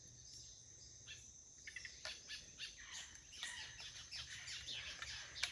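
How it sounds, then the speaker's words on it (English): Faint bird calls and chirps scatter over a steady insect trill among rambutan trees, distant and quiet outdoors, with no talking. "Can you hear the birds?"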